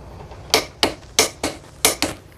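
A Kamolee 520 Nm Type B impact wrench tightens a bolt to 195 Nm, giving six sharp metallic hits in three quick pairs, loud and close.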